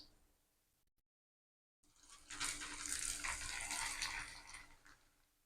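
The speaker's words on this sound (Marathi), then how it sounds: "त्याच कढाईमध्ये आपण मक्याचे पोहे सुद्धा तळून घेणार आहोत" Maize poha frying in hot oil in a kadhai, a sudden loud rush of bubbling sizzle after a brief silence, steady and close, with no talking.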